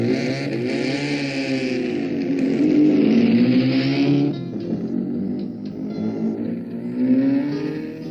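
A Ford GT race car engine at the 1965 Targa Florio roars loudly and steadily, its pitch climbing and falling as the driver works through the gears, with no voices over it.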